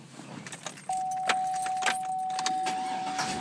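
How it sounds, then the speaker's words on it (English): Keys jangle briefly before a car's starter engages, then a steady engine hum holds from just under a second onward, with light clicks and rattles over it. "Start the car here"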